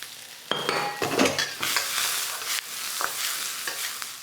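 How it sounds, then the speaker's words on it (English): Red peppers and chilies stir-frying in a hot wok alongside onions, a loud, close sizzle with repeated scraping and clinking of a utensil against the metal as the food is tossed. "Let those peppers make some nice contact with the wok"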